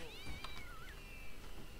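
Cat meowing in the Postal 2 video game, several short rising and falling meows over a steady game background hum, fairly close and clear.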